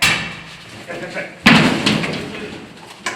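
Police in Cherkasy, Ukraine, force an apartment door during a drug raid. A heavy bang lands midway, followed by a sharper knock near the end. Voices shout throughout.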